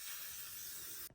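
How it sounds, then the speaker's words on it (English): L'Oreal Infallible Setting Mist sprayed onto a face, one close, continuous hissing burst lasting about a second before cutting off abruptly. "I'm gonna add this setting spray just to, you know, add a little something on top"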